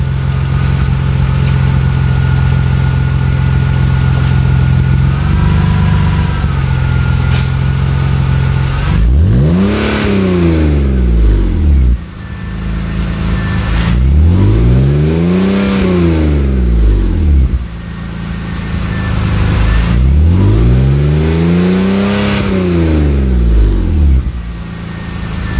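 A BMW E46 330i fitted with a Magnaflow cat-back exhaust idles with a deep steady drone, then is revved to 2,500 RPM three times, each rev rising and falling smoothly, loud and close with no talk.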